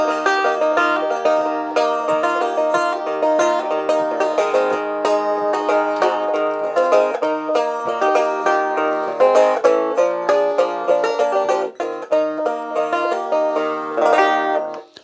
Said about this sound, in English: Unplugged, it sounds strange, a little bit like a banjo.